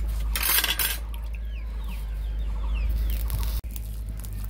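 Chickens and ducks cluck around a rural kitchen where oil heats in a wok for frying lentil fritters, their short, repeated calls fairly close over a steady low background hum, with no talking.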